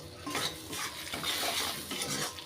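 A utensil stirs taro leaves in a pan, producing soft, repeated scraping and clinking against the metal with a faint sizzle underneath, quiet and close.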